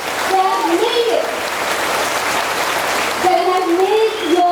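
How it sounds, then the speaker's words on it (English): Large audience at a political rally in Petaling Jaya applauds in a steady, loud wash of clapping while a voice speaks over it. "please clap and give an applause for the wonderful people of Petaling, Jaya"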